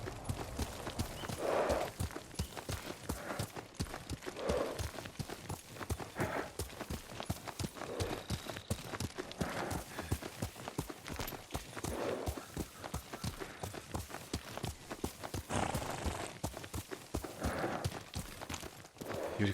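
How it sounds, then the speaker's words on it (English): Horse hooves clip-clop steadily in Ghost of Tsushima, a continuous rhythmic trot on hard ground, fairly close and even in loudness throughout, with faint game ambience beneath. "Yuriko's horse."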